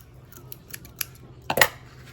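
Scissors trim ribbon for a Valentine's Day hair bow, giving a few soft, quiet snips and then one louder, sharper cut near the end, heard close up in a quiet room.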